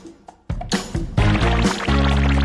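Water is poured into a drinking vessel during a food challenge: a few soft knocks, then a sudden burst of gurgling, splashing pour that settles into a steady, filling stream, close and fairly loud.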